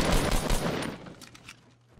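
Rapid bursts of gunfire in the Fortnite video game, several shots fired quickly in the first second and then trailing off into fainter scattered reports.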